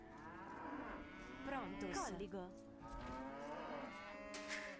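Cow mooing in Age of Empires II: Definitive Edition, a single long, drawn-out moo with a falling and wavering pitch, loud and close over a steady game background, with no voices.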